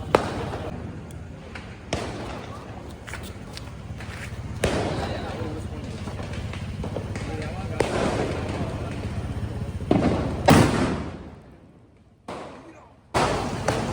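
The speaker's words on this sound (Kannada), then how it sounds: "ಬಂಡೆ ಹೊಡೆಯೋ ಬಾಂಬ್ ಇದು. ಬಂಡೆ ಹೊಡೆಯೋಣ ಬನ್ನಿ." A Diwali 'rock-breaking bomb' firecracker goes off with a sharp, loud blast near the end, after a stretch of steady background noise and scattered pops, while people talk throughout.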